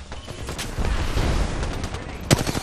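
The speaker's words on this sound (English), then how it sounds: "Oh, charge rifle behind me." A charge rifle fires in Apex Legends amid dense, continuous gunfire, with one sharp, loud shot cracking out near the end.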